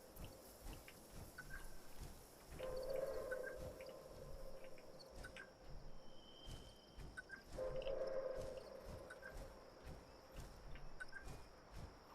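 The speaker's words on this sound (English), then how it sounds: "hear that cricket guy" A cricket chirps in the video game Fallout 76, faint repeated trilling bursts recurring at intervals over a low, busy ambient background, with no talking.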